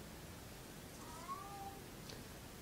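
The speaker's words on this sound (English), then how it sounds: "My cat's outside crying" A cat cries outdoors, heard as a faint, brief meow through steady background hiss, distant and muffled.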